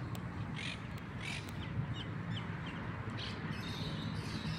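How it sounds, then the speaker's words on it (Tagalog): Crow-like birds caw noisily outdoors, their calls rising in scattered bursts over a steady, broad background hiss. "Ang kukulit ng mga ibon."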